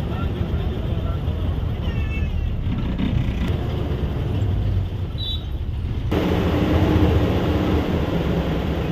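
Suvarnamukhi bus on the Bangalore to Proddatur route entering Madanapalle, heard from inside the cabin: a steady low rumble of engine and road noise that thickens toward the end, with faint voices in the background.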